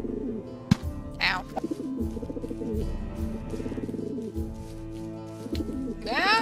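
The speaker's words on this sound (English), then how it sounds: "Watch the stupid birds." Video game birds coo in soft repeated pulses over a busy background of music and game sounds, with a brief spoken exclamation partway through.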